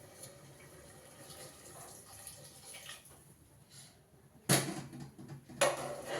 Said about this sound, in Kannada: ಅದಕ್ಕೆ ಸ್ವಲ್ಪ ನೀರು ಮಾತ್ರ ಆ್ಯಡ್ ಮಾಡ್ತಾ ಇದ್ದೀನಿ